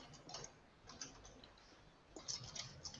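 Computer keyboard typing during an online English class video call, a quiet run of soft clustered key clicks in short bursts with pauses, faint and close, with no talking.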